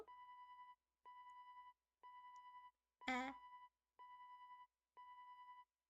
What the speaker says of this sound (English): Currently the sound that we hear is your phone dying